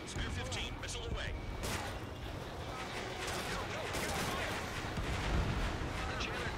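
Missile launch in the air-combat video game Ace Combat 7 during a canyon raid, a dense roaring burst with crackling explosive texture sustained under heavy battle noise and radio chatter.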